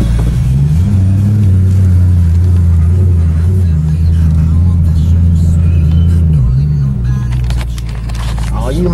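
A Maserati car engine runs at close range with a steady, deep, harmonic drone that shifts pitch as it is revved and eases off near the end, with voices talking over it.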